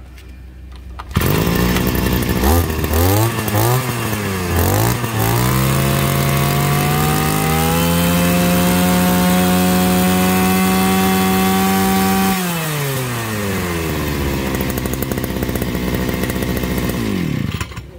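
Japanese X21 brush cutter engine running during a test, starting up, revving in a few bursts, then holding a loud steady whine before dropping off at the end, close and continuous.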